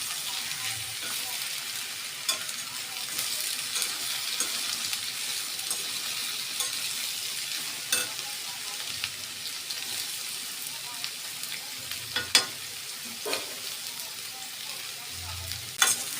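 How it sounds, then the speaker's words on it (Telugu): Food stirred and fried in hot oil in a pan, a steady broadband sizzle with occasional soft scraping and clinking of the spoon, fairly close and continuous with no talk. "బాగా కలిపి ఒకసారి ఆయిల్ అంతా పట్టేయాలి దీంట్లోకి."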